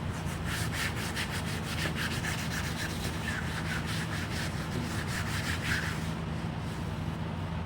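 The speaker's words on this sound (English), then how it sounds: "Rubbing it, forcing it down will activate the glue a little better, making it warm, sticking it a little better." Steady, continuous rubbing and scrubbing as mesh grille fabric on an RCF SUB 9006-AS speaker is pressed hard down onto glue, a close, even friction texture with no talk.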